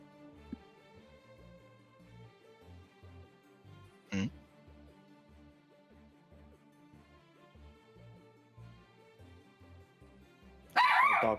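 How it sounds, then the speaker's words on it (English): A dog barks in a short loud burst near the end, with one brief yelp earlier, over steady background music and faint talk. "My dog is going."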